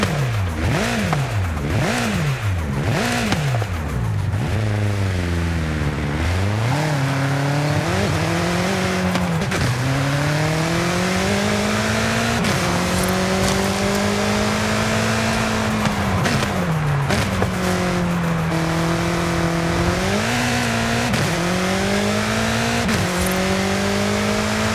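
A GT3 race car in the Forza Horizon 5 racing game roars loudly and continuously, its engine pitch climbing and dropping through repeated gear shifts as it accelerates and brakes, with tyre squeal in places.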